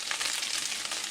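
Eggplant omelette for tortang talong with ground pork, frying in oil in a pan, giving a steady close sizzle and crackle with no voices.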